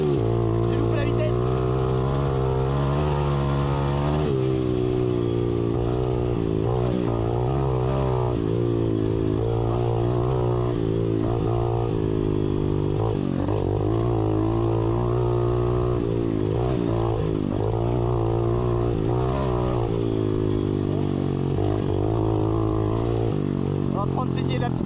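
A small RFZ motorcycle engine revs hard and repeatedly during wheelie training, its loud, rising and falling roar near and continuous, with someone speaking French over it at times.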